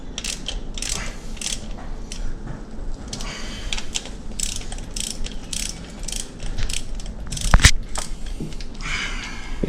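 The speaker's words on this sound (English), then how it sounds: "We're using a torque wrench to the proper torque specs" A torque wrench tightens bolts on a Dodge SRT-4 engine, giving close, repeated ratcheting clicks over a steady mechanical background, with a louder sharp snap near the end.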